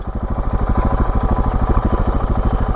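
Motorcycle engine idling in neutral, a close, loud, steady rapid thumping putter with even rhythm, no talking.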